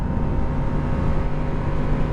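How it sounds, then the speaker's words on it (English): A 2016 Yamaha FZ-07 motorcycle under throttle, giving a steady, close, rumbling engine roar mixed with wind rush, with no voices. "You twist this throttle, it will pop the front wheel up with no complaints at all."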